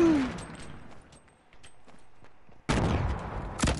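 Gunfire in Fortnite: Battle Royale on PS4, with scattered sharp shots through the first part and a loud, sustained burst of firing near the end, while a player shouts and exclaims over it.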